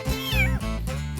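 A young kitten meows alone, a couple of close, clear, drawn-out mews in quick succession.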